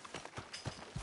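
Hooves of a horse clip-clop at an even walking pace in Red Dead Redemption 2, faint and soft with no talk over them.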